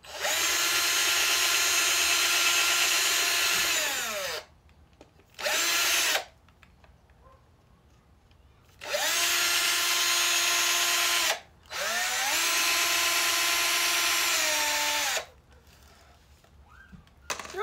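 A power drill bores a hole in three long, loud bursts of steady whine separated by quiet pauses, with a short extra burst between the first two.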